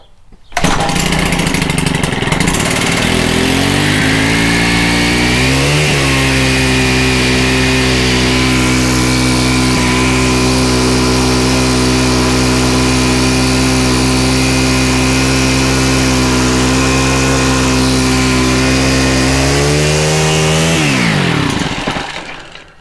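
A Stihl KM110R string trimmer engine starts on choke after a tune-up, revs up, then runs loud and steady close by at a high drone before winding down near the end, with no talk over it.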